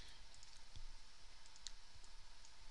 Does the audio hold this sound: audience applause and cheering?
no